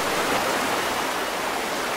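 Steady, full rushing water fills a video game scene in a blocked passage, a dense, continuous roar of flowing or falling water that holds at an even level throughout with no talk.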